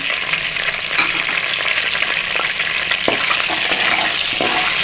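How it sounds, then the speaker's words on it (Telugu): Green peas frying in a pan for a spinach, green pea and spring onion curry, giving a steady, close, dense sizzle that runs unbroken with no voices. "ఇందులో ఇప్పుడు పచ్చి బఠానీ గ్రీన్ బఠానీ వేసుకోవాలండి ఇవి కూడా ఫ్రై అవ్వాలి"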